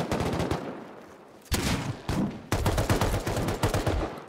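Rapid automatic M2 gunfire in the video game Rust, dense loud bursts that drop off briefly, then resume and hammer on steadily to the end.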